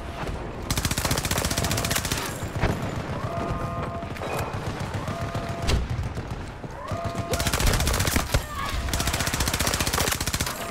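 Rapid automatic gunfire from a weapon in the video game Battlefield 2042, loud sustained bursts filling most of the stretch with brief gaps, joined by electronic game tones and effects.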